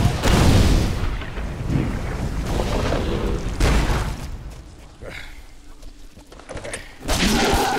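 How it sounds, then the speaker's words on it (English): Grenade blasts during a Halo 3: ODST Legendary Firefight against the Flood on Lost Platoon, heavy booming thuds that rumble and decay, repeated several times and mixed with combat noise and shouted voices. "Grenade!"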